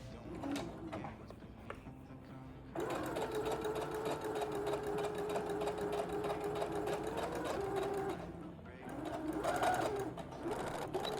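A sewing machine stitches an asymmetric skirt in a steady, fast whirring run that stops briefly and restarts, with faint birdsong in the background.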